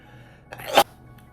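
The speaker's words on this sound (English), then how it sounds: "I'm gonna sneeze." A single sharp sneeze bursts out near the mic after a brief inhale, then quiet.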